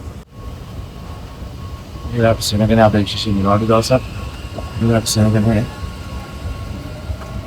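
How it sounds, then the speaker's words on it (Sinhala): A Dubai Metro Red Line train runs past with a steady low rumble and hum in the background while someone talks over it in several bursts. "මම එද්දීම මෙට්‍රෝ එකක් ගියා."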